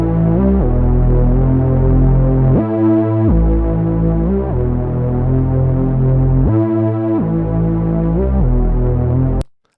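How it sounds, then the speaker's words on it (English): A synthesized Afro House Reese bass with a fifth, built from saw wavetables, plays loud and alone as a thick, throbbing, detuned low drone. It repeats in sustained phrases with brief rhythmic gaps. "which is a Reese Bass with a fifth in it,"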